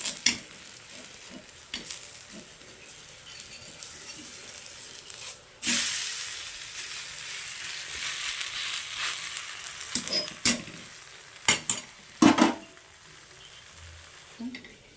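Thalipeeth flatbread roasting in oil on a pan, a steady close hiss and sizzle that swells midway, broken by sharp scrapes and knocks of a spatula.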